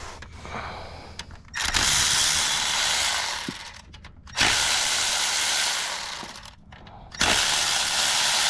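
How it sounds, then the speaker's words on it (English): A power tool backs 10mm bolts out of a solenoid on a Nissan 4.0 V6 engine, sounding as three loud whirring bursts of a few seconds each with short pauses between them. "We're gonna remove these 3 10mm on this solenoid."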